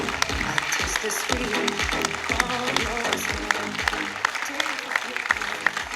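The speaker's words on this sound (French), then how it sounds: "un tonnerre d'applaudissements" Audience applause at a comedy festival in Saint-Estève-Janson, steady clapping mixed with rhythmic music and some voices, moderately loud throughout.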